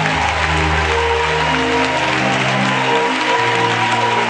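Sustained congregational applause fills a Catholic church vigil at Notre-Dame du Bon Berger, dense steady clapping from a large crowd with a low hum of voices and music underneath throughout.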